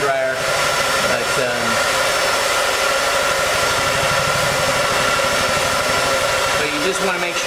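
A hair dryer runs loud and close, warming adhesive tape while fitting a wind restrictor on a C5 Corvette coupe, its steady whining roar continuous throughout with faint talk beneath.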